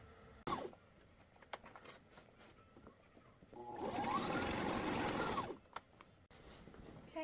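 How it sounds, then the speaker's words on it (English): Sewing machine stitches around the top of a fabric basket bag in one close burst of rapid whirring of about two seconds, framed by quieter handling clicks and pauses. "We'll take this over to the sewing machine and we are going to stitch around the top of the bag."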